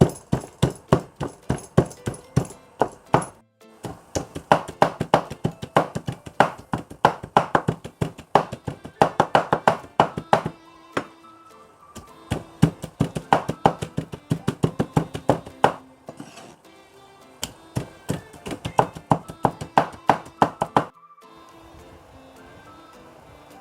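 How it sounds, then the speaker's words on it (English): Chicken breast and thigh meat being minced with a knife on a board, loud rapid chopping in long bursts of sharp thuds broken by short pauses, close and alone without talking. "Aunty start to mince the meat, the breast meat and the thigh part."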